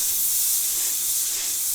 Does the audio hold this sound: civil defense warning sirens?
no